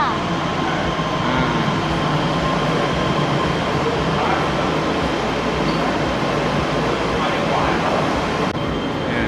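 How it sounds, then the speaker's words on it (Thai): A Green Line metro train rumbles steadily into a station in Chongqing, China, a loud continuous roar with faint high squeals, close by, without a break. "นี่เป็นรถไฟสายสีเขียววิ่งเข้ามาที่สถานีมิสซิบ้า"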